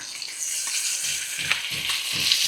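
Pork chops sizzle and fry steadily in a hot pan, a dense continuous crackle with soft low thumps and occasional sharper pops throughout.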